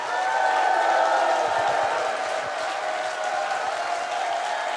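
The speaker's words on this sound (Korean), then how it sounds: "박수 한번 해주세요." Audience applause in a hall after a celebratory drummer's performance, steady sustained clapping from a sizeable crowd with faint cheering mixed in, holding at an even level throughout.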